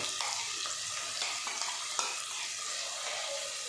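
Thick green chili paste goes into tamarind kadhi frying in a pan, with a steady bright sizzle and scattered stirring taps and scrapes, close and fairly quiet.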